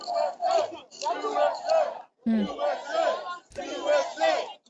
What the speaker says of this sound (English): now everyone's chanting USA